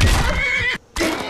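A horse in the video game Skyrim gives a loud, close whinny with strained, wavering pitch, cut by a brief silence, then more neighing resumes.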